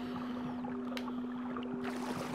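A boat is rowed through water in the video game Never Alone, soft splashes and trickling strokes over a steady tonal hum and ambient wash, with no voices heard.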